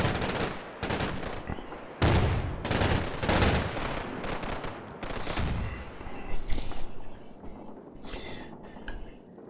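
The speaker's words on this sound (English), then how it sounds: "They call in arty on us. Spotting rounds." Incoming artillery spotting rounds in the Combat Mission Red Thunder war game, set in Stalingrad. Several loud, broad bursts arrive in quick succession with ragged gunfire crackle between them, then fade into a rumbling tail.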